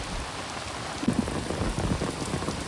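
Torrential rain falls without pause in a flood, a thick close wash of drumming drops with a few louder spatters and no talk.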